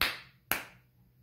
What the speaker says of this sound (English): Let's clap twice.